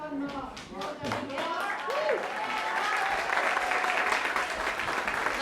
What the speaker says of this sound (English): have a special round of applause for Mark.